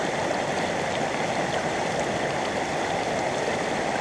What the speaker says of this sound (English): I want normally probably about 20 mils of water there, not running terribly fast